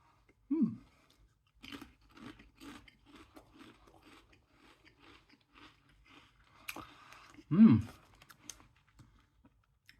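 Tesco Finest crinkle cut roast beef and horseradish hand cooked crisps are eaten up close: a loud bag rustle, then a steady run of crisp crunching and chewing, and another rustle of the packet near the end.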